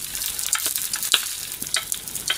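Nodoguro fish karaage fries in oil on low heat, a close, steady crackling sizzle with scattered sharper pops.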